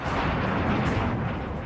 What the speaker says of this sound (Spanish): Los disparos de Hetman son devastadores